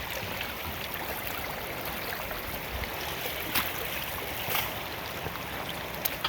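Water rushes steadily through a gold prospecting sluice beside a creek, a constant close hiss and gurgle with a few brief splashes.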